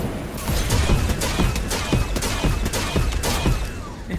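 Rapid gunfire in the video game Fortnite, an Avengers Endgame mode, with dense bursts of shots and impacts crackling continuously at close range.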